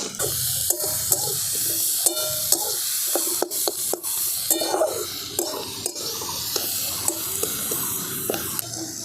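Ingredients for a semolina tiffin fry in a pan with salt and a little turmeric. A steady, close sizzling hiss runs throughout, broken by frequent sharp clicks and scrapes from stirring.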